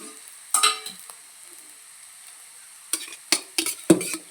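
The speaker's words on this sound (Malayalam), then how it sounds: "അപ്പോൾ അത് നന്നായിട്ട് മൂത്ത് വന്നിട്ടുണ്ട് നമുക്ക് ഇനി ഇതിലേക്ക് ചോറ് ഇട്ട് കൊടുക്കാം" Leftover cooked rice stirred into frying ragi semiya upma in a pan, with a few short bursts of scraping and sizzling separated by quiet pauses, close and crisp.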